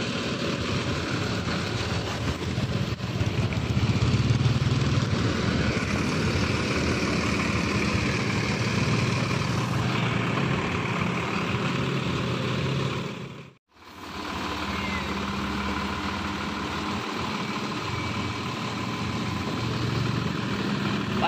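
A Mercedes-Benz 1623 bus engine idles with a steady, broad rumble throughout, briefly cutting out once before resuming.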